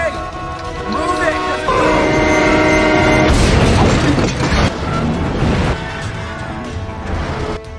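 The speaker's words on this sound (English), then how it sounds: "Suddenly the gate closed, and the train would soon pass." A train passing a level crossing, loud rumbling and clattering with a horn-like tone and mechanical ratcheting, mixed under a voice talking throughout.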